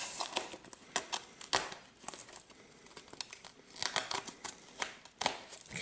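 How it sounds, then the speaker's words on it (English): An X-Acto knife slicing along the taped corner of a duct tape box gives close, quiet crinkling and ripping scrapes in uneven bursts, with short pauses between strokes. "take an X-Acto knife and cut along the corner of the box"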